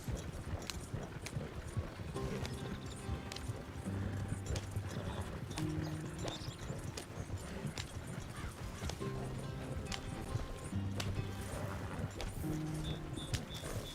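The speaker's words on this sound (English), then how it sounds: "Slow down. You'll burn out the horses." Rapid, continuous hoofbeats of horses galloping in Red Dead Redemption 2, with clattering clip-clop over a dense rumbling background, occasional faint whinnies.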